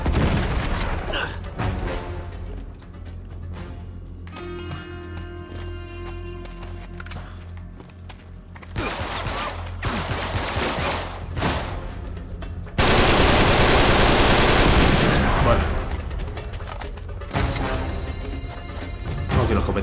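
Loud, sustained gunfire in Uncharted 3: Drake's Deception on PS5, rapid automatic bursts layered with crashes and explosions, continuous and dense throughout.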